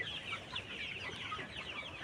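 Pullet chickens at a poultry farm clucking and chirping softly in a flock, a faint continuous chatter of many birds with no voices.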